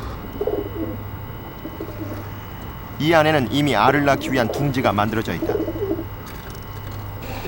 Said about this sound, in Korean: 안으로 들어서는 비둘기 한 마리.